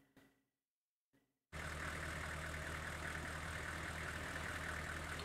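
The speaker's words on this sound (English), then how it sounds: "The only sound either of us could hear in this dense, dark forest was that of the truck's engine" A truck engine idles in the video game Corpse Party Book of Shadows, a steady, loud low rumble that starts abruptly after a moment of near silence and holds constant to the end.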